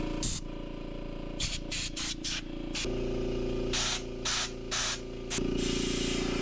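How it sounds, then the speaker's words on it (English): Compressed air hissing in bursts from a fine nozzle as it blows out the cylinders of a sand-fouled boat engine, with about eight sharp spray blasts over a steady low hum. "using a fine air nozzle, the cylinders were blown out with compressed air"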